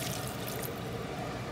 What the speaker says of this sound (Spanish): ahí le voy a dejar caer agua